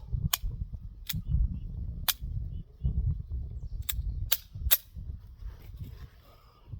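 Six sharp gunshots from a SIG P365 X Macro TacOps pistol, fired unevenly at a range, with a low steady rumble underneath, loud and close with no talking.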